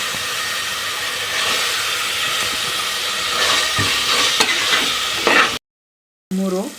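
A biryani mixture sizzles and is stirred in a pan over high flame, a loud continuous frying hiss with scraping stirs, cut off briefly by a gap of silence before a short burst of noise returns.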